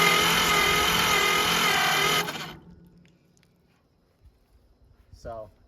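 A starter cranks a stuck engine on an Oliver 70 tractor, grinding loudly and steadily for about two seconds before cutting off, followed by quiet and a brief faint whir at the end.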